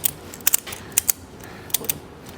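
A ShockStrap ratchet tie-down strap with shock absorber is cranked tight: sharp, close ratchet clicks come in quick pairs with short pauses between strokes, with no talk over them.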